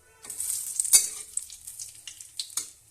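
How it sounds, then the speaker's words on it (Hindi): Cumin seeds and bay leaf fry in hot oil for an aloo baingan sabji, a steady crackling sizzle with scattered pops and spits, close and moderately loud. "जीरा जल गया हमारा, उसके बाद हम डालेंगे तेजपत्ता।"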